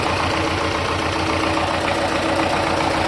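A tractor engine runs steadily while harrowing ploughed ground, producing a continuous, even, loud chugging drone with no breaks.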